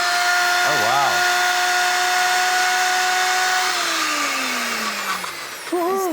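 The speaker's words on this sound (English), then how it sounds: "if you have a little blender like this, it just makes everything a lot easier" A small kitchen blender whirs steadily with a loud, even motor drone that drops in pitch near the end, with voices briefly sounding over it.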